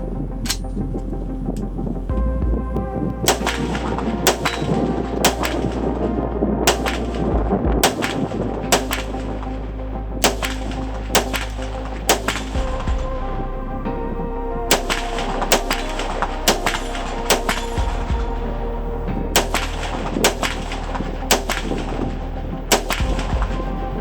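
Repeated sharp gunshots from an M+M M10X rifle, fired in uneven bursts and single reports over a steady low rumble, loud and close with no talking.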